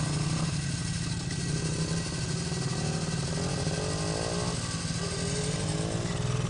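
A 1982 Honda XR80 dirt bike engine runs steadily and close, a continuous buzzing drone with a mild rise and fall in pitch, uninterrupted throughout.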